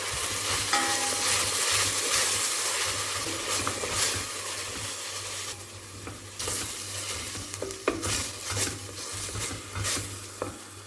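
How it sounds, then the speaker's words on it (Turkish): Steady sizzling as chopped onion and garlic fry in a hot pan with occasional stirring scrapes, close up and continuous, no voices. "bir adet yemeklik doğradığımız soğanı, 3 diş sarımsağı ilave edip kavuruyoruz"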